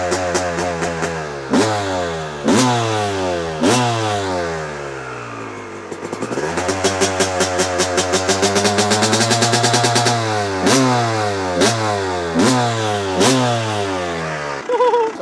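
An old two-stroke Honda CR motocross engine revs repeatedly, rising in sharp bursts with popping and a sustained high-pitched wail, loud and close.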